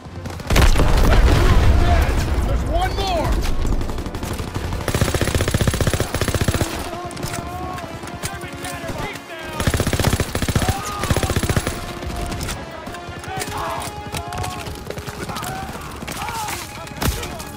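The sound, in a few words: gunfire from a PaK 38 gun in Call of Duty WWII video game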